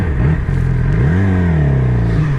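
A Yamaha R6 sport motorcycle revs hard on the road in traffic, its engine note climbing and falling in a loud, close, sustained whine.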